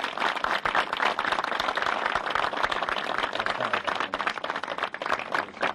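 Audience applause for guests at a strongman and powerlifting competition show, dense rapid clapping from a crowd held at an even level the whole time, fairly close and full.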